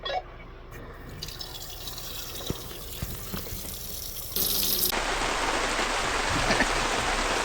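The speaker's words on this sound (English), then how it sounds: "Go ahead and turn on the cold water at the kitchen sink." Cold water runs from a kitchen sink faucet in a Class C Chateau Sprinter 24LV motorhome, a soft trickle that swells into a louder, steady gush partway through, with no talking.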